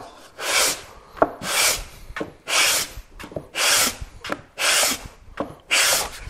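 Hand sanding a rubbing spot low on a wooden drawer of a traditional joiner's tool cabinet, heard as six regular, close rasping strokes of about half a second each, separated by short gaps with faint knocks.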